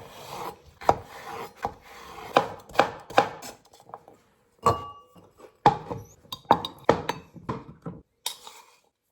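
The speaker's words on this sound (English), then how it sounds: "I cut my cucumber like this" Knife chopping a cucumber on a cutting board, a run of sharp, close thuds in an uneven rhythm with brief pauses, no voices.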